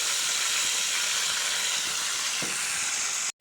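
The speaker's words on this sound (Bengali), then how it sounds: "মাছের তেলটাই দিয়ে দিলাম, তারপরে দিয়ে দিচ্ছি হচ্ছে পেঁয়াজ।" Onion is added to hot fish oil in a pan and sizzles with a loud, continuous hiss that cuts off abruptly at the end.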